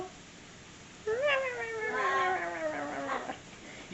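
A cat gives a single drawn-out meow close by, rising then slowly falling over a couple of seconds against a quiet background.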